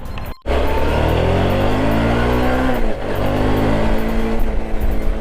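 Suzuki V-Strom 650 motorcycle with an inline two-cylinder engine, heard while riding: a loud, steady droning engine note with rising pitch as it accelerates, a brief drop in sound near the start, continuous and close.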